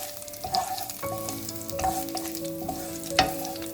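Half a spoon of hot garlic oil frying in a pan for smoky burnt garlic noodles, giving a steady close sizzle with a few stirring scrapes and a small clink near the end.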